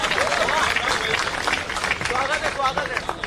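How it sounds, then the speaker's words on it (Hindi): An audience at a Hindi poetry recital breaks into applause, a dense, even wash of clapping from a large crowd with a murmur of voices mixed in throughout. "जोरदार तालियों से आह्वान करिएगा"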